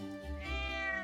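A cat meows once, a clear, drawn-out tonal call in the video game The Legend of Heroes: Trails of Cold Steel, heard alone and fairly soft.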